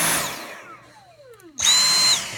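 A Dyson V8 Absolute cordless vacuum cleaner is switched up to max power: a falling whine fades, then a loud, steady high-pitched motor roar kicks in abruptly and holds close to the microphone, with no talking.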